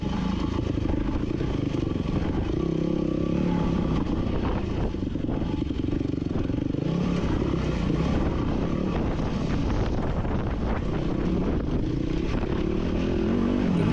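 Motorcycle on a track-style tire with a rear Shinko 525 Cheater, riding over rocks on a single track trail on Warner Ridge: steady engine drone with rattling clatter and wind buffeting, loud and close throughout.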